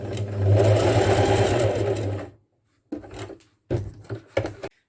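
A sewing machine stitches steadily back and forth over the raw edge of a rope basket, a loud continuous whirring run followed by a pause and several short bursts of stitching.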